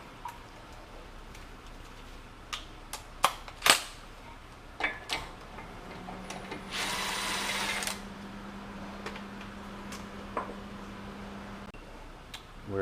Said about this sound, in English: we're just going to run it out with the impact